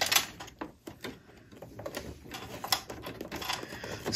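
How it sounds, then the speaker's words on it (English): A sewing machine top-stitches a vinyl zipper pouch, giving a quiet, steady mechanical whirr with light rhythmic ticking and a faint high whine, close by, with no voices. "I'm just going to stitch along, creating my top stitch."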